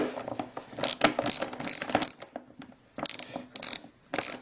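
A ratchet wrench removes bolts on a Yamaha Wolverine ATV engine during a valve adjustment, its close, crisp clicking coming in several quick bursts separated by short pauses.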